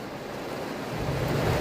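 Heavy rain pours steadily onto a parked car, a dense broadband wash that swells louder toward the end, with no voices over it.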